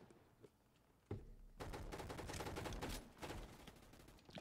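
Gunfire in the Roblox game The Hunt: a single sharp shot, then a dense, rapid burst of firing that continues for several seconds, loud and close.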